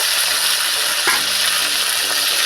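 Green chillies and tomatoes fry in hot oil with a loud, close, continuous sizzle; a brief scrape of stirring cuts in partway through.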